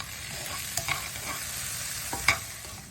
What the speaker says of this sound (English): Now we're going to add these mushrooms into the pan with our pumpkin. Give it a little stir around as well.